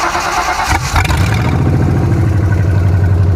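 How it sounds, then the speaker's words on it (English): A Ford 302 EFI V8 swapped into a Ford Maverick cranks briefly, then catches and settles into a loud, close, rumbling idle with a steady low throb. "let me start it up so you guys can kind of hear it"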